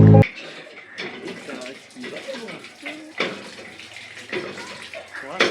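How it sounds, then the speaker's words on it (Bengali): An outdoor water tap sputters and gushes dirty yellow water from little-used pipes, with irregular splashing bursts and a voice talking over the flow. "গাইস মনে হচ্ছে কলে জল আসছে, চলো দেখা যাক"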